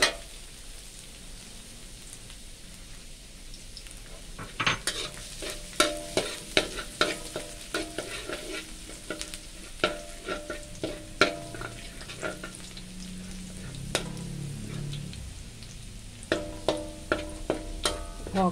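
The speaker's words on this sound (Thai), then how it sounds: "ตั้งน้ำมันอันนี้น้ำมันร้อนแล้วนะ แล้วยายก็ใส่กระเทียมสับนะ" Chopped garlic frying in hot oil in a home kitchen wok, a steady close sizzle with repeated sharp clicks and scrapes of a utensil stirring throughout, loud near the start and continuing with intermittent spatula strikes.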